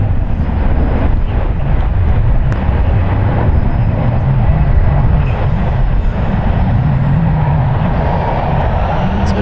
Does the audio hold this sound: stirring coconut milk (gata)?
no